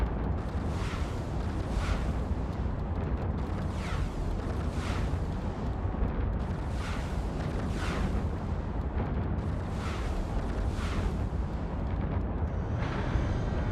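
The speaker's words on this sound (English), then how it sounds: "That explosion's gonna be nice." Ship explosions and weapon fire in the space game EVE Online, with a dense, loud rumble and a series of regularly spaced blasts roughly every second or two throughout.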